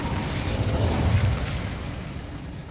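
Incendio fire spell cast in Hogwarts Legacy, a loud, low whooshing burst of flame that swells and holds for a couple of seconds before easing off, with no voices over it.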